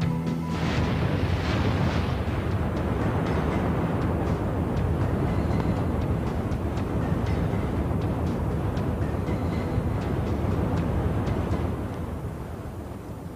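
A massive, continuous roaring rumble of an asteroid impact explosion, dense and sustained for many seconds before easing slightly at the end.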